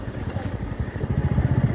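Royal Enfield Bullet and Hero Xpulse motorcycles ride in the snowy, cold hills near Mussoorie, a close, rapid low thumping engine pulse that throbs unevenly in a brief burst.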